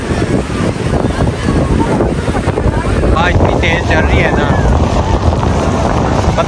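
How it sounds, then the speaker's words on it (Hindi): Strong wind roars steadily at the Karachi seaside, buffeting the microphone loudly throughout with waves and a voice faintly underneath. "हवा भी इतनी तेज चल रही है"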